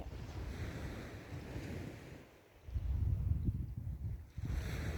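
Sea waves wash onto a beach at night in steady, continuous surf, with wind rumbling across the microphone and a brief lull before the next wave rolls in loudly.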